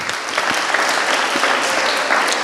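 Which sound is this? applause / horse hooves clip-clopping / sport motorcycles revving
applause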